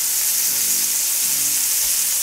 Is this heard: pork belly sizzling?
yes